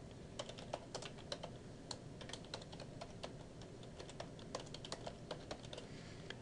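Soft, rapid keystrokes on a computer keyboard as a username is typed, a steady run of light clicks over a faint background hiss.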